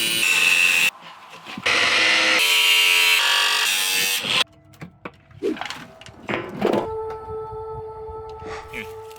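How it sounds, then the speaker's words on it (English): An angle grinder cuts into a solid steel gas tank, loud screeching bursts of grinding for the first few seconds, followed by quieter clanks, scrapes and handling knocks as the tool winds down. "Fire up this grinder,"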